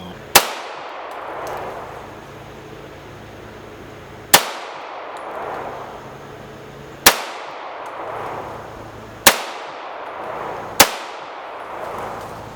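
Browning Hi Power MK III handgun fired outdoors, five sharp cracks spaced a couple of seconds apart, each ringing off with a metallic echo and tail, loud and close with no talk.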